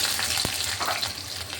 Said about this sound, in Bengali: একটু মেথিটা আর লঙ্কাটা কালো জিরাটা একটু ভাজা হয়ে গেলে